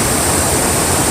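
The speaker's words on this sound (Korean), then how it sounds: "시원스럽게 떨어지는 폭포하고요. 흐르는 물하고" Steady, loud rush of a waterfall pouring into a mountain valley stream swollen by recent rain, a dense, continuous roar heard close by with no voices.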